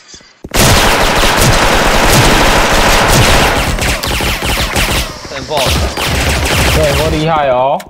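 M4 rifle gunfire in a video game, loud rapid bursts of automatic fire packed tightly for several seconds, then thinning out as voices talk over the shooting near the end.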